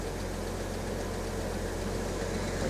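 A Jaguar XJ6 with Stromberg carburettors idles as it warms up, a steady low engine hum with a faint even pulse, constant in level and heard alone without talk.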